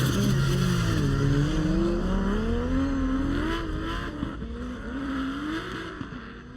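Drift cars slide through an inner zone during DMEC qualifying, with engines wailing and rising and falling in pitch as the cars transition, plus tire squeal and a roaring crowd-like wash underneath.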